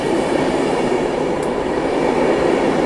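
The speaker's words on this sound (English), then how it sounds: "next one leaves in 12 minutes. So no big deal, I'll just catch the next train." Train at Montreux station in Switzerland, a steady rumble of rail cars rolling by with a faint brief squeal midway, loud and continuous throughout with no talking.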